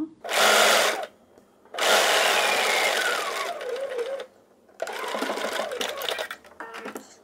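A sewing machine stitches fabric in three loud, close bursts of rapid whirring, separated by short pauses.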